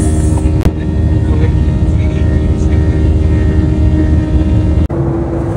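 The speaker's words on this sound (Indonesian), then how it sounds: "Jadi kita pakai pesawat Garuda" A Garuda airliner in flight: a steady, loud cabin drone of engines and airflow that stays unbroken throughout, with a couple of sharp clicks from inside the cabin.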